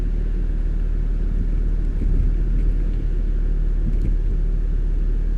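A car's engine idles steadily right after starting, a constant low rumble with no speech, heard from inside an automatic car before it is put into drive.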